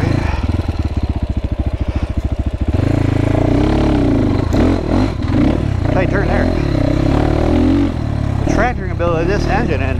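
A GPX FSE300R motorcycle with a bored-out single-cylinder engine idles with a steady low thump, then pulls away and revs under load, close to the microphone, while someone talks over it.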